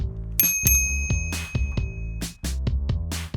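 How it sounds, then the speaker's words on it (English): A bicycle bell rings several times in quick succession, bright metallic dings with lingering ring-out, loud and close, set over a rhythmic background of music with no speech. "It's a good idea to have a bell so other road users can hear you coming"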